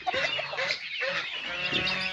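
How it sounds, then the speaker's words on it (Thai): Chickens on a Thai farm at feeding time, a dense flock clucking and squawking continuously, close and lively with overlapping calls and occasional honk-like cries. "นี่มาให้อาหาร อาหารไก่ครับ"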